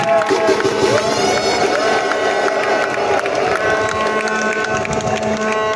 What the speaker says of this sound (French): Je voudrais qu'on applaudisse très fort pour le président Oligui